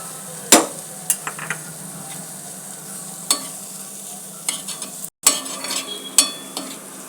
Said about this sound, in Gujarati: સારી રીતે મિક્સ કરી દઈશું. હવે એડ કરીશું સોયા ચન.